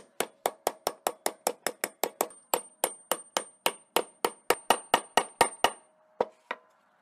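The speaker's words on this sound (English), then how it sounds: "When you're hammering the caps into place" A hammer strikes universal joint bearing caps into place in a steady run of about two dozen sharp metallic blows, close and evenly spaced, with a ringing tone over some hits and a couple of final taps after a short pause.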